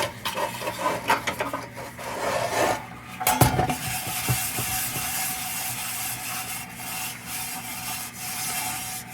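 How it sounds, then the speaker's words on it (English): Steel wool rubbing paint off an old Embury lantern, a steady scratchy rasp with short bursts of harder scrubbing, close up and fairly continuous, with no talking. "Let's throw a little steel wool on here."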